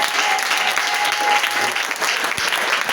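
A church congregation bursts into sustained applause acclaiming Jesus, a dense, steady wash of clapping hands filling the room from start to finish.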